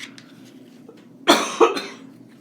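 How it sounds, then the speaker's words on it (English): Two sharp, close coughs in quick succession from a person during a storybook reading, loud against a quiet room hum. "Excuse me, I'm sorry to keep coughing."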